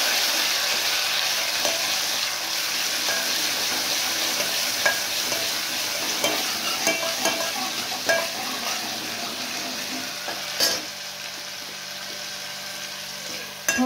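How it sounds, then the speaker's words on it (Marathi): Kadhi batter being stirred in a pan after a spoonful of ground coconut, coriander and garlic paste is added for Maharashtrian kadhi pakoda, giving a steady close scraping and sizzling with scattered soft clinks throughout, no voices. "व्यवस्थित मिक्स करून घेऊया।"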